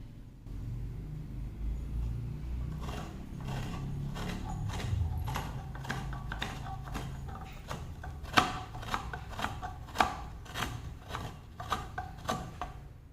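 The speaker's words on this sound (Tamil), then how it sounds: "இப்படி தான் வந்து தேங்காய் திருவி வச்சுருக்கோம் ஸோ இதெல்லாம் திருவும் போது உங்களுக்கு கீழே தட்டெல்லாம் தேவைப்படாது" Coconut is grated by hand on an antique teak wood scraper, a rhythmic series of dry, crisp scraping strokes that grow stronger and more regular after a quiet start over a low background rumble.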